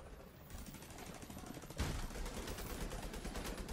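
Automated turret from The Division 2 firing in a sustained rapid burst, dense crackling shots that jump louder partway through and keep going to the end, with game noise underneath.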